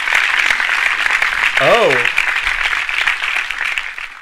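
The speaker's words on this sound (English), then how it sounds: "Let's have a round of applause" A small crowd at a Halloween party breaks into applause, a dense steady clatter of clapping throughout, with a brief voice exclaiming partway through.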